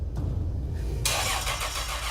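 A six-cylinder car engine cranks and catches, a low rumble building into a broadband roar about halfway through, then running steadily and fairly close.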